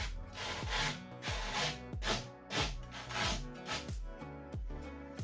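A rougher with sharp metal pegs scrapes repeatedly across a whitetail doe taxidermy form, producing close, rhythmic rasping strokes roughly every half second, with no talk.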